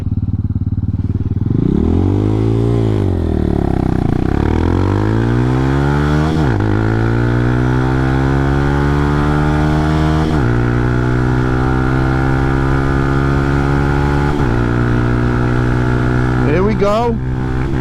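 A Honda Hawk 250 enduro motorcycle runs hard through its gears in a 0-60 sprint, loud and close, the engine note climbing and dropping at each of several shifts before settling into a high steady drone.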